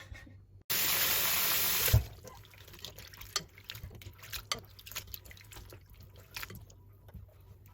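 Wild pine mushrooms rinsed under a running kitchen tap: a loud, steady gush of water lasting about a second, then quieter splashing, dripping and handling sounds close by, with no talking.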